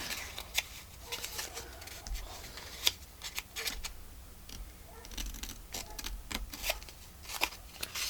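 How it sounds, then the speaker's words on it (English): Scissors snip little paper tails off a card-making project, a series of faint, crisp, irregular cuts with quiet rustling of paper between them. "let's cut these little tails off"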